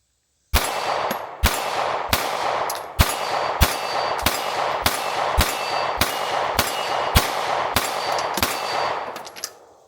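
About a dozen evenly spaced shots from a S&W M&P Shield Plus pistol with a red dot, each sharp crack followed by a ringing clang from a steel target, loud and outdoors.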